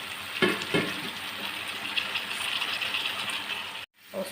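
Brinjal and other vegetable pieces fry in a pan with a steady, close sizzle, broken by a few scraping stirs and a sudden brief cutout near the end.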